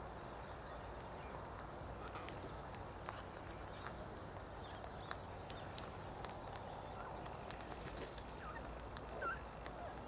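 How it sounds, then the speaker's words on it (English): Cockatoos calling on and off, distant and faint, over a steady outdoor background hum with scattered short chirps. "The birds on the tea towel have come to life."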